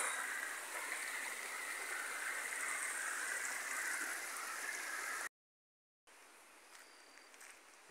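Clean stream water flows beside the Estrada da Limeira near Morro Alto in the Serra de Guaratuba, a steady broadband rush that cuts out briefly and then resumes more faintly, with no voices.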